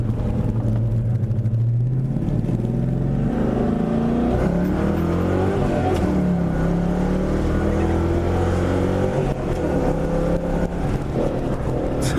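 Cammed, FBO 2000 Ford Mustang GT accelerating, its loud, lumpy V8 rumble rising and falling through several pulls heard from inside the car.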